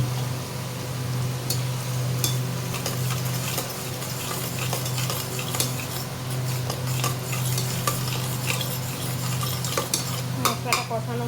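A paste of onion, ginger, garlic and poppy seed fries in a pan for chicken curry, with a steady sizzle broken by repeated scraping and clinks of a spatula stirring throughout.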